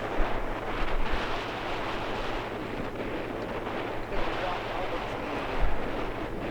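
Strong wind roars and buffets steadily with a few louder gusts during a major storm at Dockweiler Beach near LAX, surf-like rushing noise throughout.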